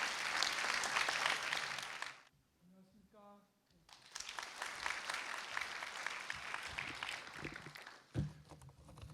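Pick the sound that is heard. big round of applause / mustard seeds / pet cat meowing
big round of applause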